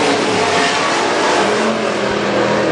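WISSOTA Super Stock race cars race around Granite City Speedway's track, a loud, dense wash of engine roar and revving that sustains without pause across the brief stretch.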